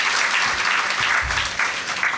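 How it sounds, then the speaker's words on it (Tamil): An audience at a Tamil public stage event gives a big round of applause, a steady broadband patter of many hands clapping continuously at moderate loudness with no break. "நீங்கள் ஒரு பெரிய கைத்தட்டல் கொடுக்கணும்"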